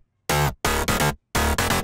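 Dry future house mid bass with no effects plays short, separate gated stabs in a choppy rhythm with silent gaps between notes, bright and buzzy, with no voices.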